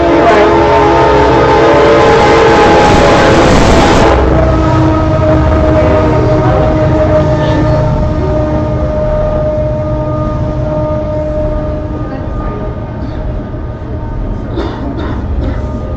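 A train passes very close and loud, its horn blaring steadily for several seconds before the rumbling wheels and engine roar continue and slowly ease off.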